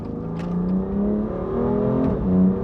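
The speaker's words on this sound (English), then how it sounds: "on the outside, the exhaust actually has so much character. Like it sounds so cool, even stock." A stock BMW M2 Competition with a dual-clutch gearbox accelerates hard, its exhaust droning in a steady, rising tone heard from inside the car, with a brief dip as a gear changes before it climbs again.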